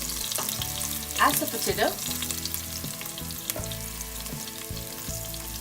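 Green chilies, garlic and turmeric sizzle in hot oil for an aloo mutter curry, a steady crackling fry with a few sharper spits, while a voice briefly speaks over it.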